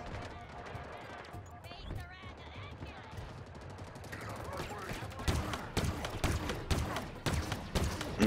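Rapid bursts of gunfire from the first-person shooter Halo Infinite, played through its campaign, growing denser and louder toward the end with sharp repeated shots and a player's voice talking over the action.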